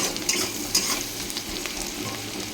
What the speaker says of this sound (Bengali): দেখো পেঁয়াজ একটু ভাজা ভাজা হয়ে গেছে, আলু দিয়ে দিয়েছি